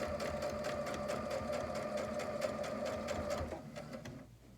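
A sewing machine straight-stitches a fabric mask, its fast rhythmic needle chatter running steadily up close before slowing and stopping near the end.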